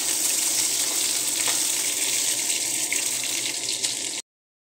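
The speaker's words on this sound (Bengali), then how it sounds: "এই যে আলুটাকে ভেজে নিচ্ছি।" Potatoes fry in a pan with a steady, close hiss and sizzle, continuous throughout with faint clinks, ending abruptly into silence.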